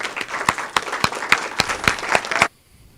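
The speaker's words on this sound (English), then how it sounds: "Let's give that group a round of applause." A school recognition event audience claps for a group of elementary school principals: a brief round of distinct, fairly sparse claps that stops abruptly, leaving near silence.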